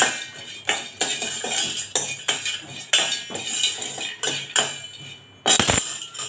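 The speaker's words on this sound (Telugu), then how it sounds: "దీన్ని కూడా కొంచెం ఒక రాయి తీసుకొని అలా చిన్న ముక్కలు చేసి పట్టుకోవాలి" Cinnamon bark is crushed into small pieces with a stone while making garam masala powder, giving a series of sharp, close knocks at an uneven rhythm, about a dozen hard strikes with short pauses between.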